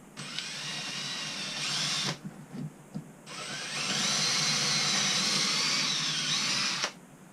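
A power drill fitted with a pilot bit bores into a boat window frame. It whines steadily in two long, loud runs, with a brief pause between them.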